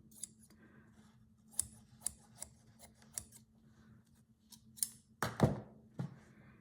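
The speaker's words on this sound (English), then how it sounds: "Dressmaking scissors are coming out." Large dressmaking scissors snip through paper in a series of sharp, close blade clicks at an uneven pace, ending with a louder crunchy cut and a final snip.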